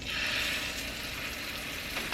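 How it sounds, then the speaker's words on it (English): Pork loin searing in a hot pan, a steady bright sizzle and crackle of frying that holds evenly throughout, close and moderately loud, ending with a small clatter. "we're just going to sear this on all the sides until it's nice and brown"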